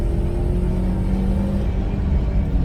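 A car with its check engine light on holds a loud, steady low rumble under revving load, heavy and continuous with no clear rise or drop and no voices.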